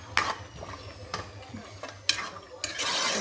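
A spoon stirs cashew, onion and tomato paste frying in a pan for dhaba-style chicken curry, giving a few distinct scraping strokes over a soft sizzle.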